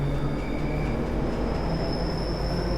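Wheels clatter and hum along electrified track on a London Underground Bakerloo Line train in Train Sim World 2, a steady rolling rumble with a thin high squeal running through it.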